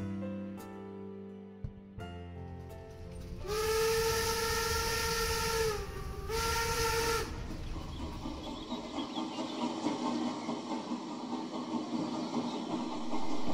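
A train crossing at Pamhagen station on the single-track Neusiedler See line in Austria passes with rumbling rail noise, and a steam-style whistle sounds twice, long and loud, before the rolling rumble continues.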